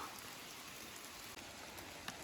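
Heavy rain pours steadily through a forest during a downpour while mushrooms are being picked, a dense, even hiss of drops on leaves with a few louder nearby plinks, no voices.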